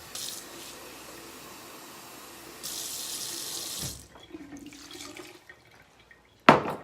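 Water runs from a kitchen tap for peach cobbler syrup, a steady hiss that swells louder before cutting off, followed by a few faint clinks and a sharp knock at the end.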